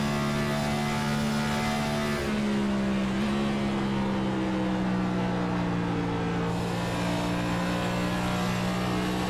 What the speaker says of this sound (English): So just looking through his windshield and listening to his car, you can tell he stayed out of the throttle longer